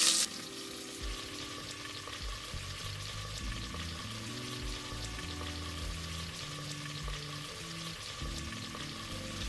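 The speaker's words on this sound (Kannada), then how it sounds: "ಇದನ್ನು ಒಂದು 15 to 20 ಮಿನಿಟ್ಸ್ ಚೆನ್ನಾಗಿ ಬಾಡಿಸ್ಕೊಳ್ಳೋಣ" Vegetables sauté in hot oil with mustard seeds and cumin, giving a soft, continuous sizzle that rises briefly at the start and then settles into a steady, faint frying hiss with low-pitched tones in the background.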